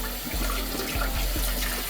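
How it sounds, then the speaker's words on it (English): Tap water runs steadily into a sink while a cyanotype print is rinsed under it, a continuous close splashing hiss with a few soft low thumps. "Just let the water from the tap"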